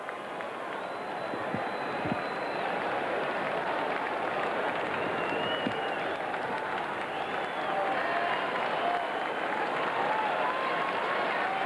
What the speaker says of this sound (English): the crowd comes alive with a rhythmic chant and applause